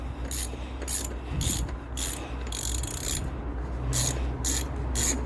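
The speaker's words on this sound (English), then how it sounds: "Since I use the ratchet, it makes it so much easier." A hand ratchet clicks in repeated bursts while loosening the oil filter housing on a BMW 5 Series F10, with close, rhythmic pawl rattles separated by short pauses and a steady low hum underneath.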